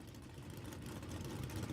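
A stout drag racing car engine rumbles at Willowbank Raceway in Australia, a steady low burbling idle heard from some distance, fairly faint, with no voices.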